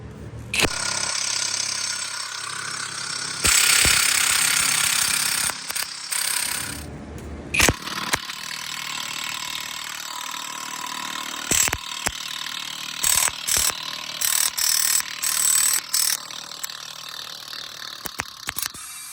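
Repeated bursts from a Hercules impact wrench from Harbor Freight, working on the brakes of a 40,000 lb bus: a long loud hammering run, then a string of short rattling bursts with clanks and pauses in between, close by.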